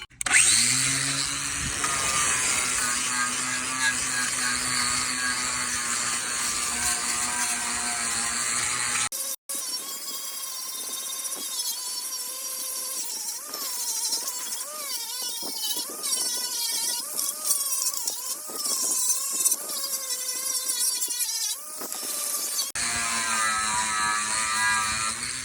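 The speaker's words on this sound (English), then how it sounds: "try getting as much of the rust off as possible" A power tool grinds rust off a steel trailer bracket, a loud sustained whine with a shifting pitch that cuts out briefly midway, then gives way to rough scraping and rattling before the tool spins up again.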